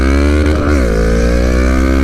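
A Honda Rebel 500 motorcycle engine runs loud and close, a steady throaty drone that rises slightly in pitch then settles, continuous with no voices.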